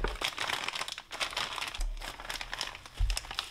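Plastic packaging from a Mishimoto half radiator kit crinkles and crackles up close in continuous bursts as it is handled and unwrapped, with no talking.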